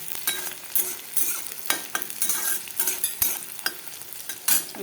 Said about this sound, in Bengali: আমি একটুখানি তেলের মধ্যে গরম মশলা আর একটুখানি কুচানো পেঁয়াজ দিয়ে ওটাকে একটু ভাজা ভাজা করে দেবো